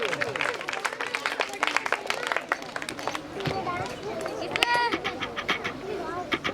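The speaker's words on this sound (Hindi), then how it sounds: "जोरदार तालियां बजे" A crowd at an English-medium school function in Bhiwandi claps for kabaddi team captains, uneven bursts of applause with sharp individual claps and voices mixed in throughout.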